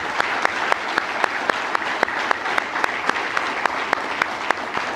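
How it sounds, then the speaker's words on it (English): Audience at a 2023 university graduation ceremony applauding steadily, a dense wash of many hands with some sharper individual claps standing out in a regular rhythm, with no talk over it. "give these folks a round of applause who started this."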